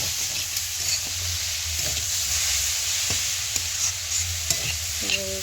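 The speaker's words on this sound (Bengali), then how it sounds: "দেখুন বন্ধুরা, একটু নেড়ে চেড়ে লাল লাল লাল লাল লাল করে ভেজে নিয়েছি।" Cabbage and potatoes fry in a pan with a steady, close sizzle, broken by the scrape and clatter of a spatula stirring them, with no voices.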